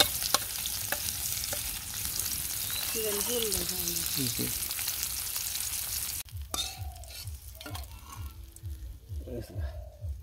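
Fish sizzling as it fries in a pan over a clay stove, a steady hiss running throughout with stirring scrapes and bursts of close talk over it.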